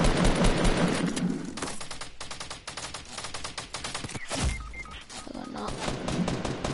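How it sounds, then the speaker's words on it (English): Rapid bursts of automatic gunfire crackle in a video game firefight aimed at the player, dense volleys near and loud with short gaps between them. "Oh no, I'm getting shot at."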